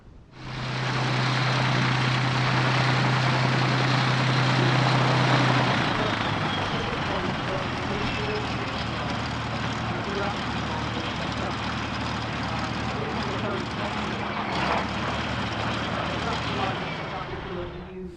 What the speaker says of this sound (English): now we're going to take a quick look at Bob Davies' first Airshow appearance in his new Warbird, the Yak-3 UTI.